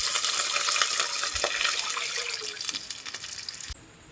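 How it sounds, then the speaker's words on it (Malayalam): Two cups of water pour into a pot holding one cup of rice for ghee rice, making a steady, close splashing gush for almost four seconds before it stops abruptly. "2 കപ്പ് വെള്ളം ഒഴിച്ച് കൊടുക്കുക"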